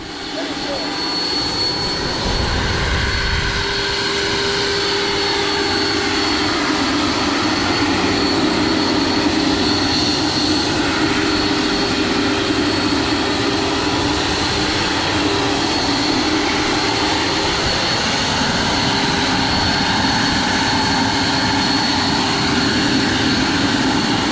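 Electric ducted fan on an RC MD 600N helicopter, a loud continuous whining roar that runs steadily close by across the whole stretch, with a faint thump near the start.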